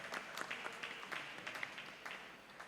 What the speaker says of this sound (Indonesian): Oke, boleh tepuk tangannya Bapak Ibu.